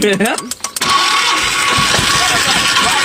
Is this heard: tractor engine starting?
yes